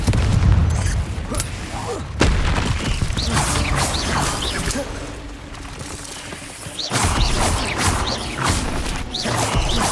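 Confringo blasting spells explode repeatedly during Hogwarts Legacy combat, loud booming blasts and crashes with whooshing spell sounds, dense and continuous for the whole stretch, mixed with busy game effects.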